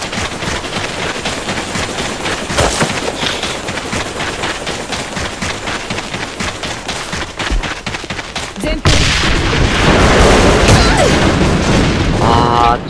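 An enemy grenade explodes in a shooter video game: a heavy sudden blast bursts in loud and close amid constant rattling gunfire, then a dense rumbling roar carries on.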